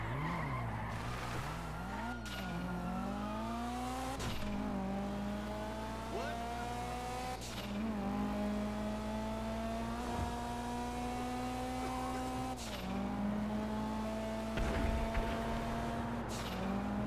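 A car driven in Grand Theft Auto, its engine droning and climbing in pitch through several gear shifts, with tires skidding and squealing at intervals. Steady and close throughout, with no talk.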